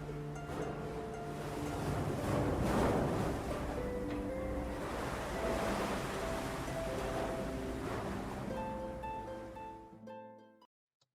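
Black Sea waves and surf roll in as a steady wash of noise, with a soft tonal background under it. The sound swells in the middle and then cuts off abruptly near the end.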